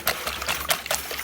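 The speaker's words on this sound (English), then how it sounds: "I'm going to whisk that together" Eggs, milk, garlic salt and hot sauce are whisked briskly in a bowl, giving a brief run of quick, wet clinking strokes at close range.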